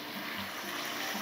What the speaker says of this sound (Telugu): ఒక శారడు నీళ్ళు చిలకరించుకుందాం